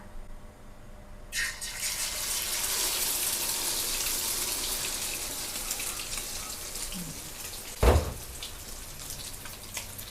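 Beaten egg for a Thai holy basil omelette with minced pork hits a hot pan and bursts into a loud, steady sizzle that holds for several seconds, with a brief thump near the end.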